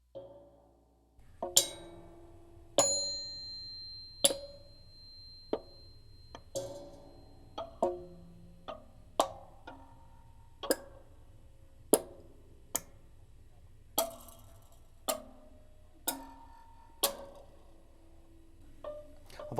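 Metallic pings, clanks and ringing tones struck one by one on a homemade horror instrument with a zip tie, strings and springs, each hit sharp and decaying with a brief ring, spaced irregularly across a quiet background.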